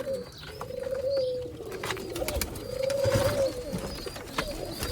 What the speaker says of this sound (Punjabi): ਲੋ ਇਹ ਕਬੂਤਰ ਜੀ